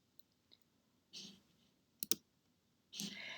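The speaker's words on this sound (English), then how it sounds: "You're going to click on it." Mouse clicks while setting up a photography Facebook page: a few faint, sharp single clicks and a close double click, spaced between short soft rustles in a quiet room.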